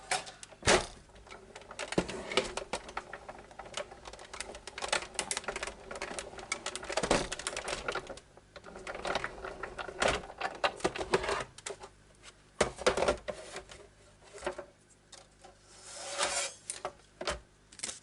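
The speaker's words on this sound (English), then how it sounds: "I'm going to run this through my die cutting machine first of all and cut him out" Die cutting machine rolls an owl shape out of card, giving a continuous close mechanical rumble with dense clicking and crackling throughout, loud and alone with no voices.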